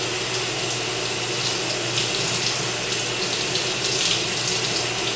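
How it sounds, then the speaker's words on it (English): Shower water runs steadily over long natural hair, soaking it through; a loud, continuous broadband hiss and spatter fills the whole span, close and unbroken, with no voices. "I run my hair under the shower until it's soaking wet."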